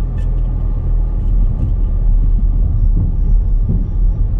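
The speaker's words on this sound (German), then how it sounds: "Fahr mal 10 km/h mit dem Auto auf eine Holzbrücke." A car rolls slowly at about 10 km/h across a wooden bridge, giving a loud, steady low rumble with irregular knocks from the planks.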